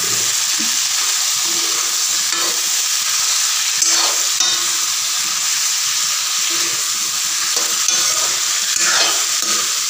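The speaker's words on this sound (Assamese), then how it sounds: "ইয়াতে আলু আৰু কাটি লোৱা কাচকল কেইডোখৰ দি ভাজি ল'ম" Potato and raw banana pieces fry in a pan with tomato for a raw banana curry, a steady close sizzle running throughout with occasional stirring scrapes and no talk.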